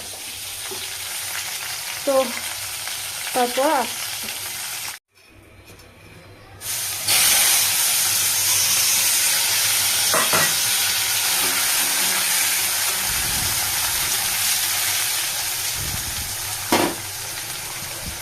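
Potato and onion fry in a wok with a loud, sustained hissing sizzle after a brief pause, while a spatula occasionally scrapes; someone speaks briefly early on before the oil takes over.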